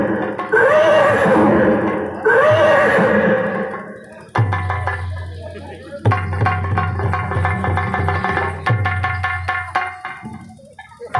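Horse in a nautanki folk-theatre performance giving two long, loud whinnies, followed by steady musical accompaniment with drum-like thumps.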